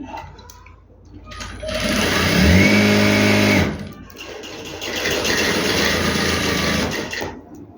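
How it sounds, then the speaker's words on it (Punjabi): A sewing machine stitches a dress for a two-year-old baby boy, running loud and close in two long whirring bursts with a brief slowdown between them. "ਸਭ ਤੋਂ ਪਹਿਲਾਂ ਆਪਾਂ ਇਹ ਵਾਲੀ ਸਲਾਈ ਲਗਾ ਲਾਂਗੇ"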